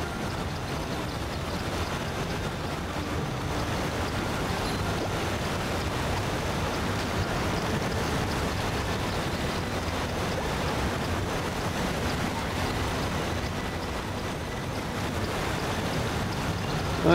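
A waterfall in the Kelp Forest level of the SpongeBob SquarePants: Battle for Bikini Bottom video game gives a steady, even rushing roar that holds at one level throughout, with no voices over it.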